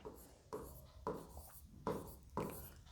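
Writing during a Class 10 geometry lesson on circles, heard as a series of close scratchy strokes of a pen or marker in short separate bursts, fairly quiet.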